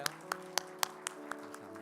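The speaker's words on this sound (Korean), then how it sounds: "우리 격려의 박수 우리 찬양대에게 드릴까요?" A church congregation clapping for the choir, a faint, evenly paced series of about eight claps in a reverberant hall, steady and slightly fading toward the end.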